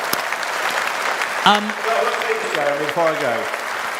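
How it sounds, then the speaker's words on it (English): Political rally crowd applauding for Richard Tice in a large room, with dense clapping throughout and a voice talking over it. "Should give him a big round of applause for Tice"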